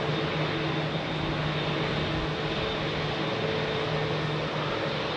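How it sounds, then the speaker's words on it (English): A Boeing 787 Dreamliner departs runway 27R at London Heathrow, making a loud, steady, broadband jet roar with a constant rumble and no pauses. "Dreamliner."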